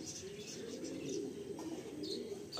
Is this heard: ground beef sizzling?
no